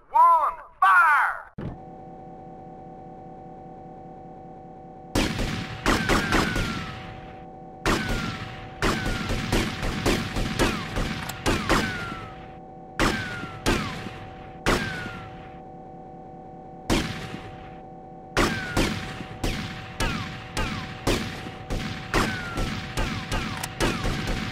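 Firing-squad gunfire in the GTA Vice City video game: a rapid series of sharp, loud shots comes in irregular clusters over a constant low hum, following a brief opening burst of sound.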